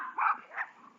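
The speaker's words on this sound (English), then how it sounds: "I got a bunch of chihuahuas after me now" Chihuahuas bark in two short, yappy bursts that sound somewhat distant and are fairly quiet, with a faint trailing whine between and after them.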